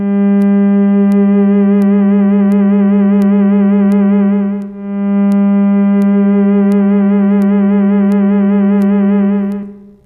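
An auditory illusion: a sustained, reedy oboe-like tone holds steady with a wavering, voice-like vibrato layer above it, briefly dipping midway before fading out at the end.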